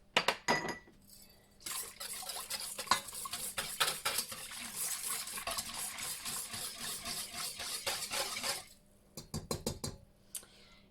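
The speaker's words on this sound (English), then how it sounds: "Okay, we're gonna whisk these." Water and olive oil whisked in a bowl for sourdough bread, a rapid, continuous clinking and swishing of a whisk against the bowl for several seconds, framed by a few louder knocks and taps at the start and end.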